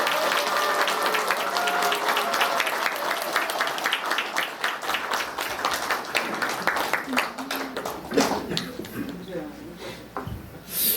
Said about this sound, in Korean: 소설 범도의 작가 방현석 작가님을 큰 박수로 모시겠습니다.